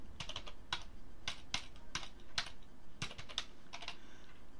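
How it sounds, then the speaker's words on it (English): Password being typed on a computer keyboard, a quick irregular run of sharp key clicks in short bursts with brief pauses, close and clear over a low background hum. "You've got to put in a password, the password to get into your MX system"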